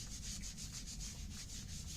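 A cloth or pad lightly rubbed back and forth over a wet wooden gunstock in a sanding motion, making a soft, steady, rhythmic swishing scrape, faint and close.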